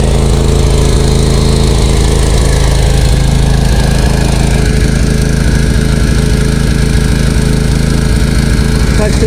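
A walk-behind lawn mower engine runs steadily at close range after a throttle cable adjustment, its loud, continuous drone uneven from debris in the carburetor, with no speech over it.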